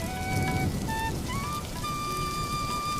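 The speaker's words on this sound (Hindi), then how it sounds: "ए झिलिक, इतना मत भीग, ठंड लग जाएगी।" Rain falls steadily as a dense, even hiss, with faint tonal notes drifting above it and no speech.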